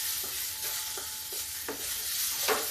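Ground salt being stirred into sabudana bhujia in a pan: soft, regular scraping strokes of a spoon roughly every half second over a faint, continuous sizzle.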